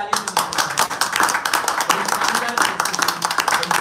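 Audience clapping at a Rajasthani drama event, a dense, steady spray of hand claps filling the hall, with voices murmuring underneath.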